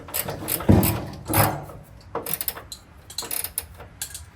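A ratchet wrench cranks down a fastener while work is done on a 1969 Camaro: rapid clicking bursts in uneven spurts, close and fairly loud, with pauses between pulls and some handling clatter.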